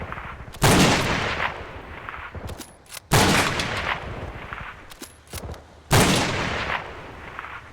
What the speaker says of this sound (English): That's our sniper team firing at this self-propelled gun.